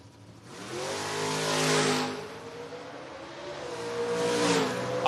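A 1968 Camaro at a drag strip roars in a loud, harmonic engine run with rising and falling revs, swelling to a peak then easing before climbing again as it accelerates down the track.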